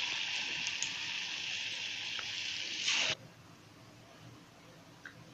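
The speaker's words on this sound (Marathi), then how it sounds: "आता मी सोडून असे भाजून घेते सगळे." Sweet gulgule fritters sizzle steadily in hot oil for a Holi festival treat, a bright hiss that cuts off sharply midway, leaving faint sputters; no talking.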